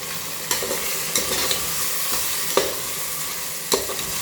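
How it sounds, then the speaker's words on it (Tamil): Chicken pieces sautéing in a pan for chicken biryani, a continuous sizzle broken by several sharp knocks and scrapes of a spatula stirring at irregular intervals, close and fairly loud, without speech. "இப்போ நம்ம சிக்கன் போட்டுக்கலாம். போட்டு வதக்கலாம்."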